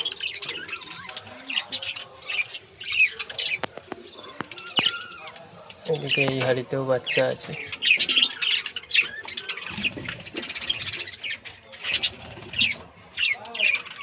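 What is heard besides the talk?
caged birds squawking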